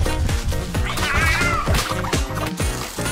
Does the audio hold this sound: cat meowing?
yes